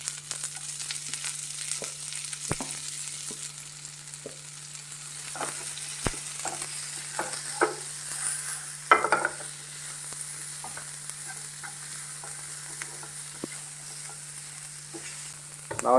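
Onions sauté with garlic in a pan for Goan-style prawn chilli fry: a soft continuous sizzle runs under intermittent spatula clicks and scrapes from stirring, with no talking.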